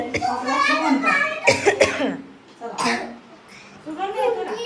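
A family down with colds coughs in several sharp bursts, close to the microphone. A voice and other talking run between the coughs.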